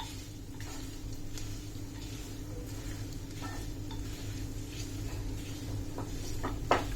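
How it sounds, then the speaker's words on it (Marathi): A masher works through cooked vegetable for a fasting dosa filling, giving soft irregular squishes and light pan knocks over a low steady hum. A sharper clack lands near the end. "आता आपण मॅशरनी ही भाजी थोडीशी मस्त स्मॅश करून घेणार आहोत"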